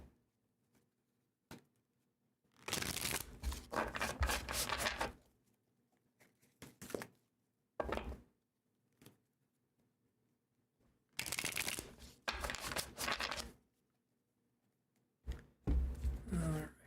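Tarot cards are shuffled by hand in bursts of crisp, rapid riffling, several separate rounds a few seconds long with quiet pauses and small taps between them.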